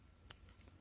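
One faint, crisp snip of scissors cutting a beading thread tail on handmade beaded earrings, a single quick click in a quiet room.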